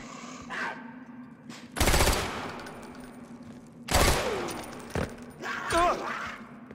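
Video game gunfire in Far Cry 4: two loud short bursts of automatic shots a couple of seconds apart over a steady low hum, followed by scattered game effects and a brief voice.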